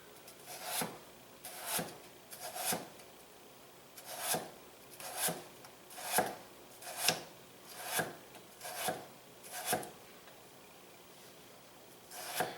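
A knife rocks through thin slices of potato for a holiday gratin. About thirteen evenly spaced, close, crisp strokes sound alone.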